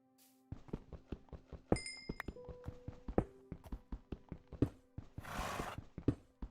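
Minecraft horse whinnying in-game amid a steady run of sharp clicking and footstep-like taps, with a few bright ping tones and a brief burst of noisy rush near the end; close and moderately loud, no talk.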